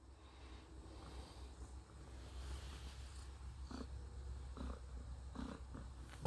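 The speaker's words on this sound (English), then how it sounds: "What a goofy cat." A cat purring inside an off-grid solar-powered cabin, a steady low rumble held close and continuous, with a few soft taps and clicks near the end.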